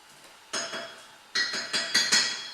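A spoon clinks against the side of a pot while stirring greens into soup, several sharp metallic taps in two short bursts, close and clear with no talking.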